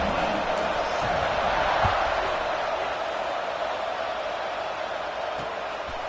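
A college football stadium crowd at Utes vs. UCLA roars in a steady, broad wash of cheering and chatter just before a kickoff, with faint claps and thuds scattered through the noise.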